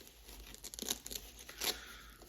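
Adhesive diaper tape is pulled and torn during a diaper change, giving a few quick close ripping and crinkling bursts over a quiet room, with no voices.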